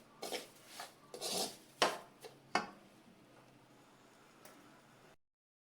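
Semolina roasting in ghee with crushed cardamom in a pan, stirred with a spoon: a string of scraping, clinking strokes against the metal, close and moderately loud, then fading to a quiet scrape and silence.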